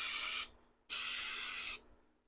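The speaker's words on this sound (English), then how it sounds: "Now we're going to spray with this." Two hissing bursts from a SprayMax aerosol spray can fitted with a 3D-printed spray tip adapter, a short one and then a longer one of about a second, with a brief pause between them.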